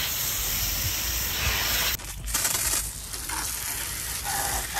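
A broad hissing water spray sounds close up on a running PC's parts, then shifts into bursts of spraying and sputtering, with no talking.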